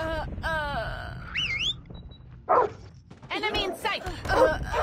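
Dogs bark and yelp in a shooter video game, several sharp close barks mixed with whimpering over busy game noise, while voices talk over and between the barks.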